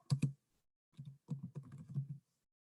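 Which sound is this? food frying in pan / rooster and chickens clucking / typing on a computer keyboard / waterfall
typing on a computer keyboard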